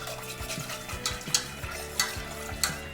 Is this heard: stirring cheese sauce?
yes